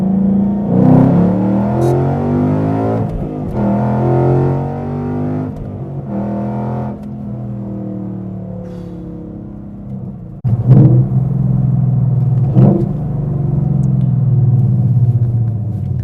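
Car engine fitted with Texas Speed long tube headers, a deep rumbling exhaust note rising and falling through several revs, with sharp blips around the middle and a sustained throaty drone, close and loud.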